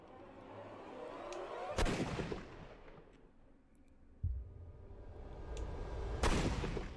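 Gunfire in the Sherlock Holmes: Crimes and Punishments video game, with two loud, sharp shots several seconds apart, each trailing off in a long echoing decay over a low rumbling background.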